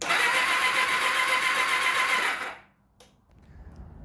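A Kawasaki ZXR turbo motorcycle engine being cranked on the starter, a steady loud whirring drone for over two seconds that cuts off, then quiet with a faint click and low background noise.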